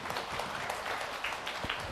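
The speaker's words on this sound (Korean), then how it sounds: "이현종 집사님 박수 한번 주세요." A church congregation at a mothers' prayer meeting applauds a deaconess, a steady wash of many hands clapping at moderate distance, fairly soft and continuous with no voices standing out.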